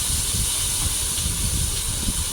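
Onion, garlic and ginger sauté in hot oil for a prawn-stuffed pancake filling, producing a steady, close, unbroken hiss of frying with no voices.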